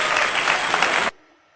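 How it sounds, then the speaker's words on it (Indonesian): A brief burst of applause for a classroom group that answered correctly, dense clapping from a small crowd for about a second before stopping abruptly. "Tepuk tangan untuk kelompok 2 yang menjawab dengan benar."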